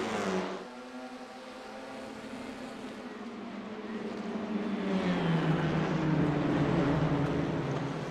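Honda Civic Type R race cars in a racing video game at Watkins Glen pull away at the race start, a dense blend of engines rising steadily in pitch and loudness, with no talk over it.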